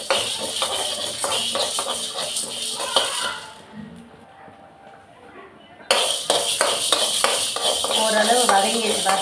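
Tamarind and spices being dry-roasted and stirred in a pan, with a utensil scraping and clinking against the metal in quick repeated strokes around a brief pause, a voice talking over the stirring.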